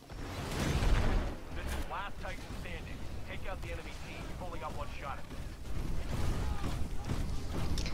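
Cluster missile explosions hitting a player in the video game Titanfall, a series of booming, rumbling blasts and mechanical clatter that swell at the start and again near the end, with someone talking over much of it.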